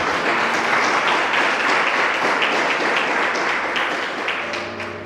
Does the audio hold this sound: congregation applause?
yes